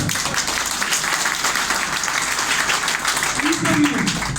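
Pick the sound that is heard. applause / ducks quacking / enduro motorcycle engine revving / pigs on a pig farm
applause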